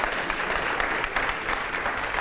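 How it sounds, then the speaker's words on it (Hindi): A television studio audience at a political interview show claps loudly and steadily throughout, dense applause with no speech over it. "बहुत जोरदार तालियां होनी चाहिए"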